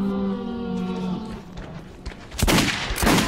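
Revolver fired in Metro 2033, two loud, sharp reports close together near the end, after a quieter stretch of low droning ambience.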